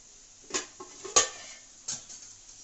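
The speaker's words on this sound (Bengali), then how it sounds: "ডিমটা দিয়ে আমি ঢাকা দিয়ে দেবো।" Eggs go into an egg curry and a lid is set on the pan, giving a handful of close metallic clanks and scrapes, the sharpest near the middle, over a low background hiss.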